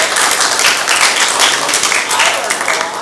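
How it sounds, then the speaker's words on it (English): Audience applause at an Austin meetup, a dense, steady wash of many hands clapping close and loud for the full length, with no talk over it. "Well, I want to everybody give a big round of applause."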